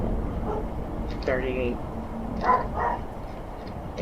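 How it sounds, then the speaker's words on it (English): A dog barks in a real-time sinking game of the Britannic, giving a few faint, scattered yips and barks over a low rumbling background while someone talks throughout. "Also, the dog is now barking."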